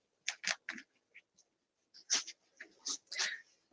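Dogs on Christmas wrapping paper on a floor, producing faint crinkling and rustling bursts in short irregular clusters with quiet pauses between.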